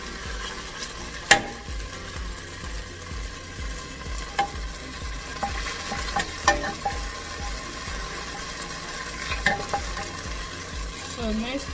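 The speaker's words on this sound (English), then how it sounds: "I'm gonna stir it." Stirring garlic in a pan for roasted butternut squash soup, with a steady low sizzle under repeated scraping strokes and occasional sharp clinks of the utensil against the pan. No one talks.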